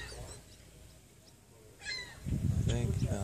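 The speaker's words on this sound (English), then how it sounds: "No, that's a gull." A gull gives a brief cry in the distance at Youngs Bay on the Northwest Angle, Minnesota, then a voice starts talking over it.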